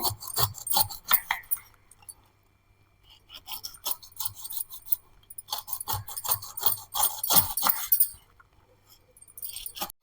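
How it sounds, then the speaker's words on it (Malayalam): A sharp kitchen knife slices the spiky skin off a pineapple, giving close, rasping cuts that come in bursts with short pauses between strokes. "അത് ഇങ്ങനെ കട്ട് ചെയ്തെടുക്കും നല്ല മൂർച്ചയുള്ള കത്തി വേണം കേട്ടോ പൈനാപ്പിൾ കട്ട് ചെയ്യണമെങ്കിൽ"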